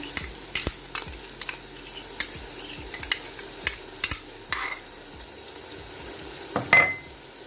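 Stirring and scraping in a pot of chicken pulao with garlic-ginger paste over a low frying sizzle, with irregular clinks and scrapes of a utensil, close by and moderately loud.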